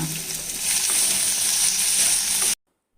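Shallots and large onions sizzle and crackle steadily in a hot pan, a close, continuous frying hiss that cuts off abruptly.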